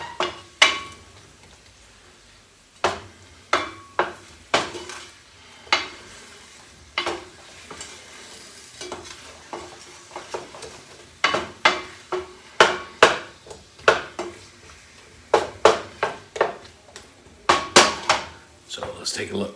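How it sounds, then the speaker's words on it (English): A spoon scrapes and knocks around a pan to lift browned bits while orange pieces soften, giving sharp irregular clinks and scrapes over a faint sizzle, close and fairly loud with no talking. "we're just going to kind of scrape it around and get all those brown bits up"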